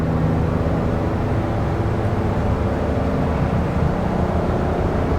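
A 2023 Nissan Frontier Pro-4X pickup with a non-turbo engine pulls steadily at part throttle while towing a trailer, a continuous low rumble of engine and road noise holding even and fairly loud throughout.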